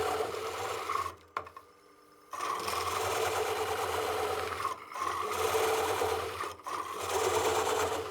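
A wood lathe cores a bowl with a Oneway Easy Core at half speed, giving a loud, steady close whirring cut that drops out briefly several times, once for about a second, then resumes.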